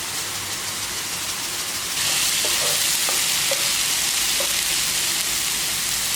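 Onions and tomatoes fry in ghee inside a pressure cooker for chicken biryani, a steady sizzle that grows louder partway through, with a few light stirring clinks.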